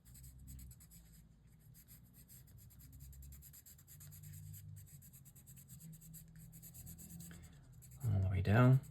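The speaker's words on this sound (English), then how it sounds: "Using that side of my pencil, changing the pressure so I get some areas darker and some areas lighter." Graphite pencil shading on paper while drawing curly hair, with the side of the lead and changing pressure: a soft, steady scratchy rubbing that runs throughout, and a louder, brief burst near the end.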